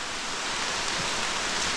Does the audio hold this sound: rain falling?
yes